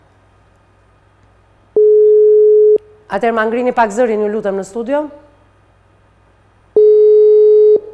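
A telephone busy tone sounds twice during an unanswered studio call, each a loud steady beep about a second long, with someone speaking briefly between them.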